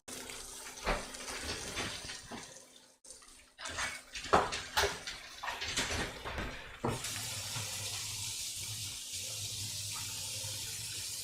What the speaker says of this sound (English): Just washing my tongs.